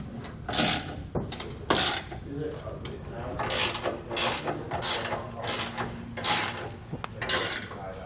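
A ratchet tightens trailer hitch bolts on a 2012 Dodge Ram pickup, giving repeated bursts of sharp clicking strokes in an uneven rhythm, close and clear, with some faint talk in between.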